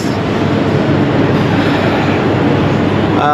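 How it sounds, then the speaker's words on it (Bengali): Steady, loud rumble of the Banalata Express heard from inside a passenger carriage while riding, a dense continuous roar with no speech and a brief higher tone near the end. "অবশেষে উঠে পড়েছি বদলতা এক্সপ্রেস"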